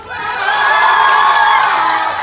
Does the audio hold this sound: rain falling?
no